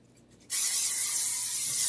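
After a brief quiet moment, a sudden steady hiss of aerosol cooking spray onto a baking mat starts and continues evenly to the end, close and fairly loud.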